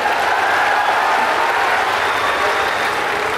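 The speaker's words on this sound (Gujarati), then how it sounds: "બધા જ મારા કલાકાર ભાઈ બહેનો માટે તાળીઓ વગાડીને સ્વાગત કરે છે" Crowd applause welcoming performing artists at a temple event at Vadvala Mandir in Dudhrej, a dense, steady clapping that fills the whole stretch without pause.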